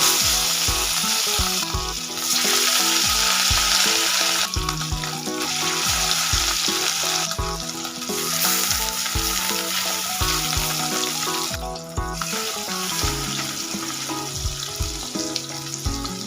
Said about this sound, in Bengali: গ্যাসের ওভেনটা অন করে একটা কড়াই বসিয়ে দিয়েছি, আর এর মধ্যে পরিমাণ মতো সরষের তেল দিয়ে দিলাম